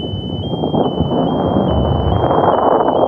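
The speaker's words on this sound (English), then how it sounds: "you can hear the annoying beeping sound slowly get quieter and quieter" A steady, high electronic beep repeats at an even pace over a constant broadband roar, staying fairly prominent throughout.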